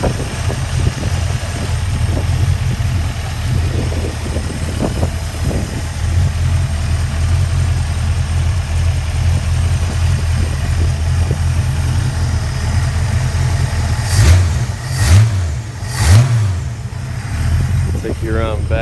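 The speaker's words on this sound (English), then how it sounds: "I'll have the engine bay up and the engine running so you guys can hear it" Engine of a 1966 Ford Mustang idling with a steady low rumble, then revved in three quick blips near the end, with someone talking over it.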